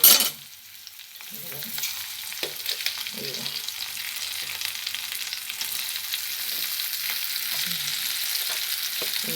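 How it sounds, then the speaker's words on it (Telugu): Raw plantain pieces fry and sizzle in a pan with dried red chillies, a steady crackling hiss with occasional stirring scrapes, close and continuous. "ముక్కలన్నీ వేసేసుకొని ఇవి కూడా కొద్దిగా అట్లా వేగిచ్చేసేసి"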